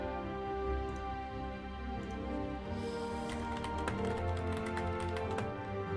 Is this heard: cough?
no